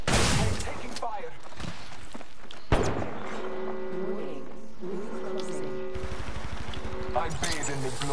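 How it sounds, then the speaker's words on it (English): Bursts of automatic gunfire and heavy thuds in an Apex Legends firefight, punchy and close, with a character voice speaking between shots. "I'm taking fire."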